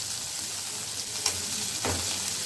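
Tomato and curry leaves sauté in a pan for a Malvani-style fresh cashew curry, giving a steady, close sizzle with a couple of brief stirring scrapes, no voices.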